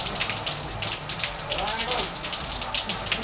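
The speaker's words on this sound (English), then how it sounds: "It's been raining since yesterday afternoon. It's never really let up." Rain falls steadily in Naga City, Camarines Sur, Philippines, a continuous hiss of drops pattering on surfaces with a light gushing undertone, moderately close and unbroken throughout.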